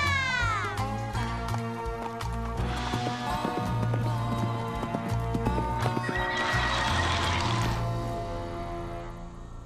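A horse neighs loudly over rapid clip-clopping hooves, with cartoonish animal cries and music-like tones layered throughout.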